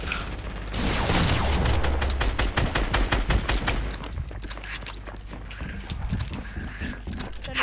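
Rapid bursts of gunfire from a Fortnite free-for-all match crackle in close, dense volleys, loud and overlapping for several seconds before thinning out into scattered shots.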